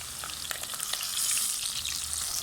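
Capsicum and egg curry ingredients sizzle in hot oil in a pan, a dense, steady crackle with occasional stirring scrapes, close and continuous, no talking.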